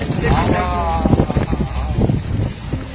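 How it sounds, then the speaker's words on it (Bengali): Strong wind buffets the microphone with low rumbling gusts while a person talks over it up close. "এমনি প্রচুর হাওয়া দিচ্ছে"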